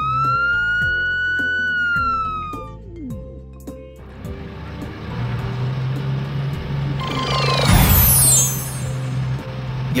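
A police car siren wails with rising and falling tones, then a loud rumbling vehicle and a hissing air brake take over, close and loud.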